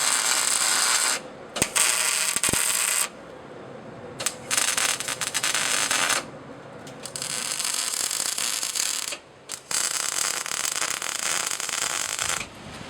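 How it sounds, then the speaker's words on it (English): Tack welding steel sheet onto a dumpster: several separate bursts of harsh crackling arc noise, each lasting a second or two, broken by short quiet gaps. "I'm just going to go ahead and tack this at a couple places to keep this in line"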